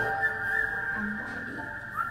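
The whistle melody of a film's theme music holds as a steady, piercing tone over low backing music, fairly loud and continuous with no voices.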